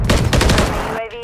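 Heavy gunfire in the video game Modern Warfare 3: a dense, loud burst of overlapping rapid shots, close and continuous for about a second before cutting off into a short ringing tail.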